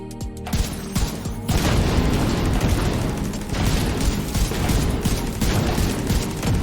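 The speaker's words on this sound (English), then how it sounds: "Can I chuck a grenade in there just to wake him up?" Grenade blast in The Division 2 shooter, a sudden loud boom that leads into dense, sustained crackling gunfire and rumbling explosions lasting several seconds, close and heavy, with no speech.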